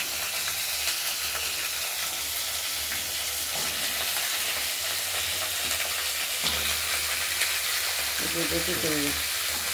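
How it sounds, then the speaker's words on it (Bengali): Five kinds of chopped vegetables, including green banana, fry with spices in a pan, giving a loud, steady sizzle and hiss with occasional scraping stirs throughout. "নাড়াচাড়া দিয়ে ঢেকে দেবো, ভেজে রাখবো"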